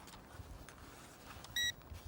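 An Eachine E511S GPS drone gives a single short, bright electronic beep during compass calibration, very brief and clear over a faint, quiet background.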